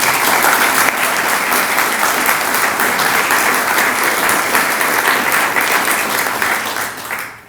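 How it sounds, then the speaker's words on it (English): Audience applause at a poetry reading at an arts center, loud and sustained clapping from a room of people that fades out at the end. "that in itself is an accomplishment worthy of a round of applause for Miriam."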